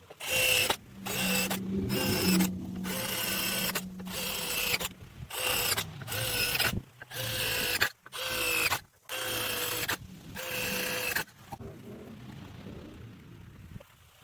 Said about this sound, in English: and then we'll be ready to put our hooks in